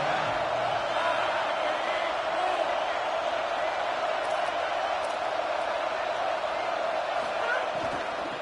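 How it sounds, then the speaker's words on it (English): Steady, dense crowd roar from a college football video game stadium during a Kentucky versus Georgia matchup, loud and continuous throughout with a faint commentary voice mixed underneath. "This crowd ready to make its presence known."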